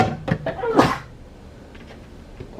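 A single sharp human sneeze close by, with a brief breathy intake just before it, followed by a quiet room.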